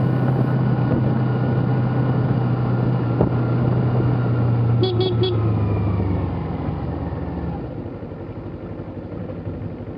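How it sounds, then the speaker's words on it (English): A Kawasaki Ninja 300 motorcycle coasting downhill on a hilly Ooty road, with a loud, steady engine rumble and wind noise that slowly fade and soften toward the end, and no talking. "Here we can clearly see the motorcycle accelerating on the downhill even without the throttle."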